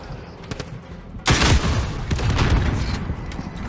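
Gunfire in the video game Call of Duty: Warzone, with a few faint shots and then a loud burst of rapid automatic fire that continues in dense, rattling volleys.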